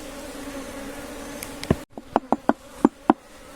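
A honeybee swarm, recently taken from a tree, hums steadily up close, then the buzz cuts off and a series of sharp knocks and taps follows.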